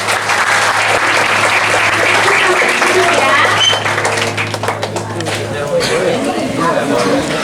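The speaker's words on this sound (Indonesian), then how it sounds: "Selesai jargon nanti langsung tepuk tangan paling meriah" A youth group gathered for an Easter visit to an orphanage bursts into loud, lively clapping right after a group chant, dense and close, fading into scattered claps as voices start talking over the tail.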